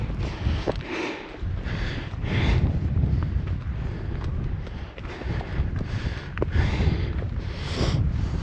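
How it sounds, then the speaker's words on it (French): Gusty, cold wind rushes and buffets the microphone near a mountain pass in Ariège, with rhythmic crunching footsteps and occasional sharp clicks running under it. "Le vent est quand même frisqué"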